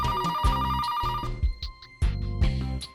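A telephone rings on an incoming call with a repeated melodic ring, loud and close, in short bursts with brief gaps between them. No one talks over it.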